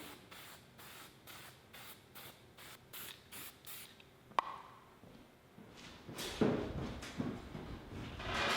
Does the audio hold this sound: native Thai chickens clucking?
no